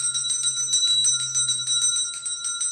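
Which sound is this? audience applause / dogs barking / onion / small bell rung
small bell rung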